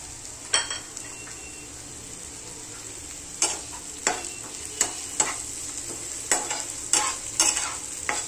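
Chopped capsicum frying with browned onions in a pan, a low steady sizzle broken by repeated sharp scrapes and clinks of a spatula stirring against the metal, close and clear, without talk.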